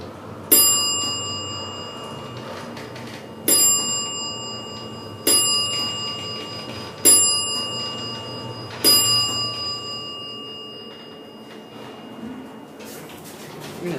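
A Montgomery Vector traction elevator at a convention center sounds its warning bell: five sharp metallic dings spaced a couple of seconds apart, each ringing out briefly over a quiet hum.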